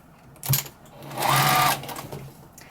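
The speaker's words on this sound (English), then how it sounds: "I'm going to start sewing." A sewing machine stitches a quilted potholder in a short run, its motor whirring up to a steady hum in the middle and then slowing to a stop, close and clear with no talk.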